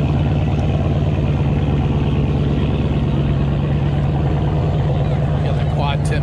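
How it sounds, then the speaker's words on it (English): A Dodge Daytona with a mid-muffler delete and quad exhaust tips rumbles continuously at a cars-and-coffee meet, a steady close, loud idling drone throughout. "That's what a mid-muffler delete sounds like."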